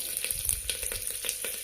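Hot oil crackles and sizzles in a pan while tempering spices for tomato rasam, with quick soft pops scattered over a steady hiss.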